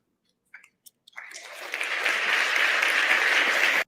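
A few isolated clicks give way to an audience at a TEDx talk breaking into applause that swells quickly and holds steady and fairly loud before stopping sharply.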